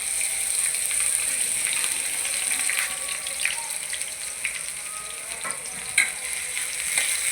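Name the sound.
chopped onion and garlic frying in hot oil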